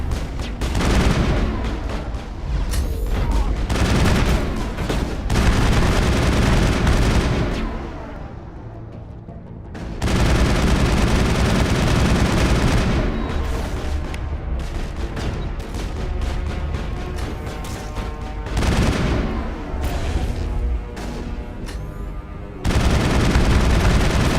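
Turret gunfire in the video game Mass Effect rattles in long, loud bursts of rapid shots and heavy booms, broken by a brief lull before the barrage resumes at full intensity.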